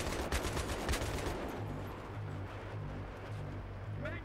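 Rapid gunfire from the video game Battlefield 3, bursts of shots in the first second and a half giving way to a steady rumble of battle noise, fairly loud throughout.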